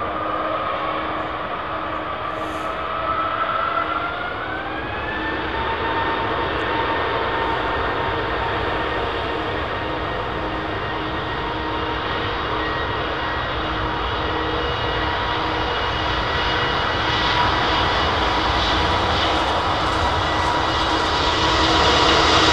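A jet airliner's engines spool up at London Heathrow Airport, a rising turbine whine climbing in pitch over a steady broadband roar that grows louder and fills the whole stretch, close and continuous with no talk.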